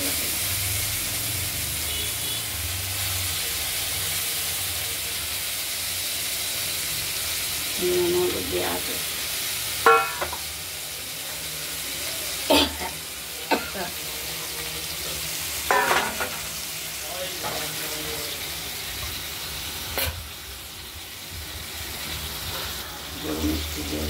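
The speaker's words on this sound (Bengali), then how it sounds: "সর্ষে কাঁচা লঙ্কা ফোড়ন দিয়ে দিলাম। এবার এই চটকে রাখা চাল কুমড়ো নয়, লাউয়ের চোকলা আছে।" Bottle gourd peel frying in a pan with mustard seed and green chili, a steady hiss and sizzle with occasional stirring scrapes and clinks, while someone talks over the cooking.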